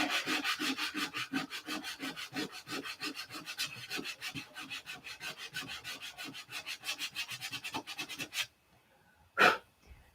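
Superfill filler fillets are sanded by hand in quick, regular back-and-forth strokes, a close rasping rhythm that stops abruptly, followed by one short scrape after a pause.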